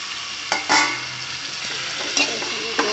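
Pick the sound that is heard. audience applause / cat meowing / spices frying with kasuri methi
spices frying with kasuri methi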